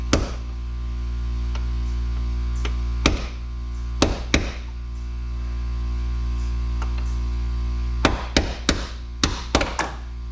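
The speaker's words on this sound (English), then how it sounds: "Then you just take one of the pins from your hinges, use that as a punch." Sharp metal-on-metal hammer strikes on a hinge pin used as a punch against a Chevy door hinge, with isolated hits followed by a quicker cluster of blows, all over a steady mains hum.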